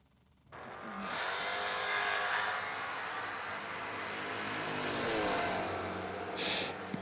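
A Mustang drag car launches and roars down the strip, its loud sustained engine note rising and holding for several seconds with no one speaking over it.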